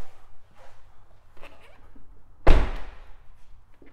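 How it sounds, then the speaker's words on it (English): A single solid thunk as a 2014 Ford Kuga Titanium X door is shut, loud and close, following quieter handling sounds and light shuffling. "just shut these doors."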